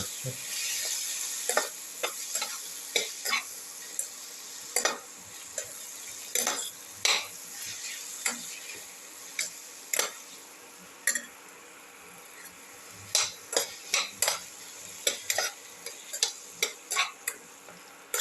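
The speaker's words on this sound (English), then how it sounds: "Mix the potato pieces and the tomato pieces with the rest of the mixture." A spoon stirs potato and tomato pieces into a tomato rice soup mixture in a pan, giving repeated sharp scraping clacks at an irregular rhythm over a soft, steady sizzle, close and fairly loud.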